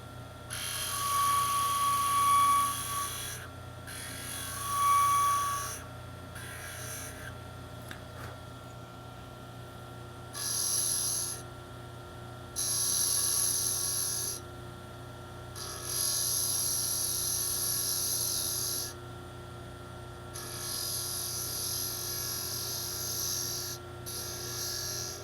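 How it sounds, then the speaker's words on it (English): Wood spinning on a lathe is shaped with a spindle detail gouge while turning a toy top, the motor hum steady underneath as bursts of high scraping cut in and out repeatedly, close and moderately loud. "Just blending that shape together with the spindle detail gouge."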